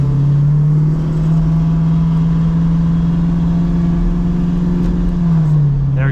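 A 1970 Dodge Challenger with a 392 SRT engine drones at steady low revs throughout, a loud, close, even engine tone that dips slightly near the end as if easing off; no talk is heard.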